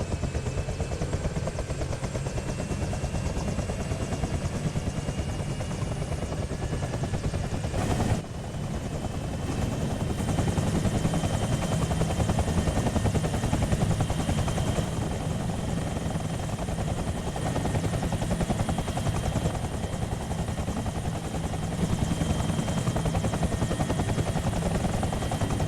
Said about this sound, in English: We were transported by Huey to our final objective.